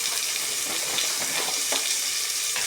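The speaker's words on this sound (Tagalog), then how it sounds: "Igigis yung repolyo." Cabbage sautéing with small dried fish (dilis) in a hot pan, a steady broadband sizzle with occasional stirring scrapes, close and continuous with no talk.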